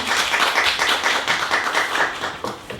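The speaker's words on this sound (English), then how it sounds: "Round of applause." Small audience at a live bookstore event claps, a close and fairly loud patter of hands that holds steady for a few seconds and thins slightly at the end.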